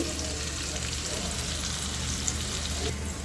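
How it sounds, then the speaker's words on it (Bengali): Dense, constant sizzling of chopped onions frying in hot oil, close and fairly loud, with no voices. "পেঁয়াজটা একটু ভাজা ভাজা করে নিব"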